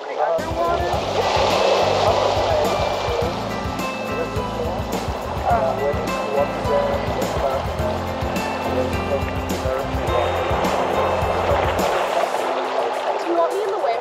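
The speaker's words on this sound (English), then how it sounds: "Look at the big wave." Ocean waves breaking and washing in the Gulf of Maine, a continuous loud churning surf with water rushing, while people talk nearby over it.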